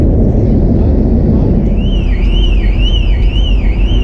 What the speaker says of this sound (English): Every car alarm seems to be going off.